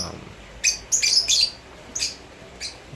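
Lovebirds give several short, shrill chirps and squawks in quick bursts, fairly close, over a quiet background without talk.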